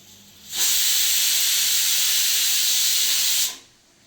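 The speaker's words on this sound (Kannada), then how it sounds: "ಒಂದು ವಿಜಿಲ್ ಆಗಿದೆ ಫ್ರೆಂಡ್ಸ್." A small pressure cooker lets out one loud, steady steaming whistle that lasts about three seconds and then cuts off abruptly, cooking soya chunks pulao with no voices over it.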